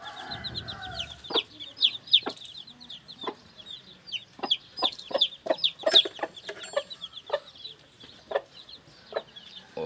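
Aseel chickens cluck and chirp close by in quick, irregular bursts, with small chicks peeping in the background.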